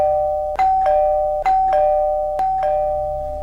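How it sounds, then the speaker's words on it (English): A doorbell rings over and over, two-tone chimes repeating in a steady loud pattern, close by with no voices. "helplessly listening to the ceaseless ringing of the doorbells."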